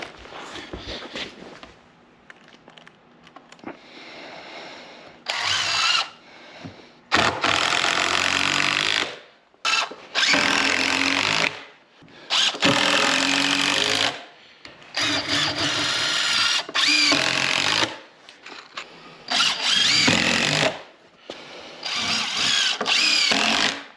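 Power drill driving screws into a wooden firewood road stand, a series of loud close whirring bursts of a few seconds each, separated by short quiet gaps.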